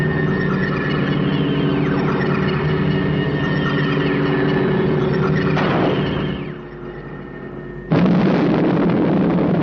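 An explosion inside the Spectrum Maximum Security Building in the 1967 puppet series Captain Scarlet and the Mysterons, a loud sustained roaring rumble lasting several seconds, then a brief dip and a fresh sharp burst of noise.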